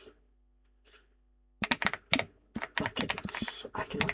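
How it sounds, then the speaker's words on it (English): Rapid typing on a computer keyboard starts after a brief quiet moment, a close, busy clatter of keystrokes with uneven rhythm and a few short gaps. "I cannot type today"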